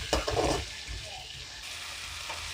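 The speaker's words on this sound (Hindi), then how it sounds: "इसमें अच्छे से मिक्स करेंगे। थोड़ी देर इसको अच्छे से भूनेंगे ताकि जब तक टमाटर गल न जाए।" Ground tomato and onion frying and being stirred in a pan for a masala fish curry, with a loud scraping burst early on, then a steady soft sizzle.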